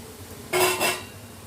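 Grated coconut tipped into a pan of carrot curry and stirred, a short metallic scrape and clatter of a spoon against the pan, two quick bursts, close and alone.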